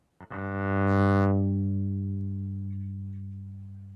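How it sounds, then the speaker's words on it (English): A low electric cello note starts sharply and sustains long and steady, slowly fading, with no voices. "And then this is the sound of an electric cello."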